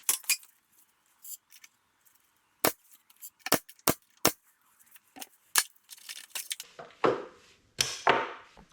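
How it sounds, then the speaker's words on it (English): A nail gun fires nails into wooden shelf boards, giving a series of sharp, loud snaps at irregular intervals with quiet gaps between them, followed by softer handling clatter. "And then I shoot my nails."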